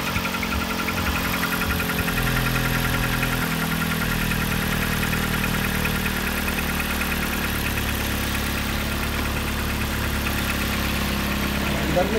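A car engine idles steadily after an oil change, a continuous mid-pitched hum with some vibration, close and fairly loud throughout.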